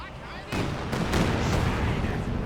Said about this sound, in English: Here comes Katusha Barrage